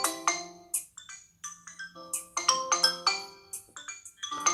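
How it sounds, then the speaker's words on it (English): A melodic ringtone plays from the loudspeaker of a Xiaomi Redmi 5 Plus, a bright run of chiming synthetic notes in quick succession, clear and close with nothing else heard. "So let's use a ringtone and see what can we do."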